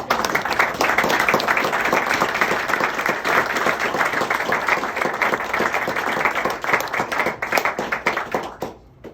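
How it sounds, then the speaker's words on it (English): Enthusiastic applause from a crowd at a military retirement ceremony for Colonel Al Kellogg and his family, a dense, loud, sustained clapping that thins out and fades near the end. "a round of applause for both Alan and his family"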